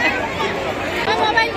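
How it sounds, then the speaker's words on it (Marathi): Close, steady hubbub of a crowd at the Kalika Mata temple, many overlapping voices chattering at once with no single voice standing out. "हे बघा गर्दी किती आहे बघा."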